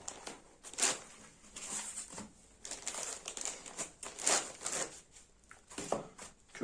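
Foam packaging rustles and crinkles in quick, soft bursts as a Lenovo V15 laptop is unboxed, the handling close and fairly quiet with irregular pauses.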